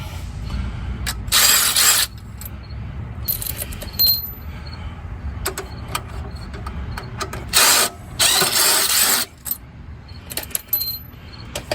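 A ratchet clicks in rapid bursts while loosening bolts on a 2006 Buick Lucerne 3.8L engine, with loud stretches of ratcheting separated by quieter metallic handling.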